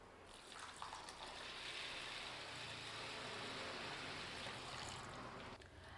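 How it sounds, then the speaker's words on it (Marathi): Rice being washed in water for mutton dum biryani, with a steady rushing, sloshing wash of water that runs continuously and fairly loud, alone without any talk. "हा आता तांदूळ 2-3दा स्वच्छ धुवून मी 1 अर्धा तास भिजत घालणार आहे"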